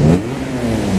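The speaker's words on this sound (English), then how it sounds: "That's a lot of noise from a Subaru." A Subaru engine at a Japanese performance car show revs loudly and close by, a brief rising and falling mid-pitched engine roar.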